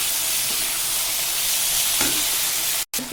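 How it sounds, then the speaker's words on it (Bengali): Ground spice paste and dried chillies fry in hot oil while being stirred, giving a steady loud sizzle with scraping stir strokes and a brief dropout near the end. "আবার একটু নাড়ার পালা।"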